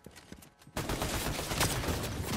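A sniper rifle shot rings out in a Fortnite duo cash cup tournament match: a sudden loud, close blast breaks quiet game ambience, then dense, sustained gunfire-like combat noise carries on to the end.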